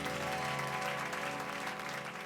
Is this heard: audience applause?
yes